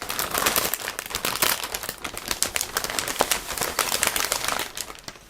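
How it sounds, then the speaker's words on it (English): A resealable plastic bag holding parts of an ICM 1/32 Stearman PT-17 model kit is pulled open, giving a steady run of close, dense crinkling and crackling for several seconds with no talking. "Now I need to open this plastic bag. It's a resealable plastic bag,"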